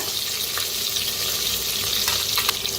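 Onion, garlic and green chili sizzling in hot oil with roasted whole spices, a steady loud frying hiss throughout with small crackles, no voices.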